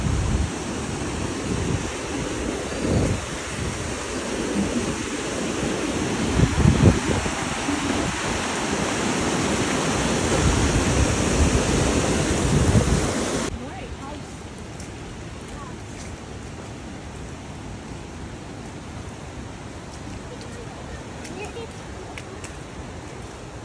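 Waterfalls in Maval roar as a dense, wind-buffeted rush of water that is loud and close at first, then drops abruptly to a softer, more distant wash for the remaining seconds.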